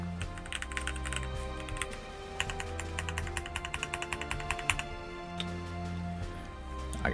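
Keys clack on a HexGears Soda 68 65% mechanical keyboard with stock keycaps, a quick, fairly close run of bright taps in an uneven typing rhythm that pauses briefly before picking up again.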